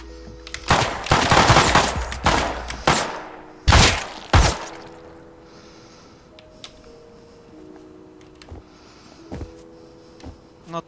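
Gunfire in the game Rust: loud bursts of rapid shots and single blasts early on, then a quieter stretch with electronic tones and a few soft thuds.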